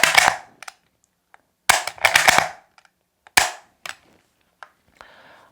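A Lee-Enfield bolt-action rifle fires several sharp, loud, close shots spaced a second or so apart, each a hard crack with a short decay, with smaller clicks and metallic bolt sounds between them.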